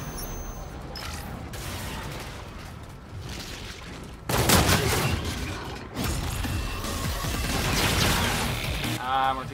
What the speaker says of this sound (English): He's using a light machine gun.